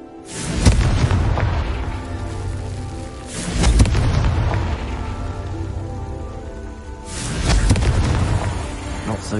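A Confringo fire spell in Hogwarts Legacy blasts repeatedly, three heavy booming explosions with crackling, rain-like debris trailing after each, loud and close.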